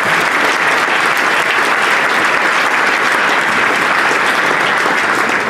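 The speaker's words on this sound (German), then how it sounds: "Dazu erst einmal einen herzlichen Glückwunsch und einen riesen Applaus." Dense, steady applause from an audience at a ceremony honouring a young female athlete in Frankfurt, loud and sustained without a break.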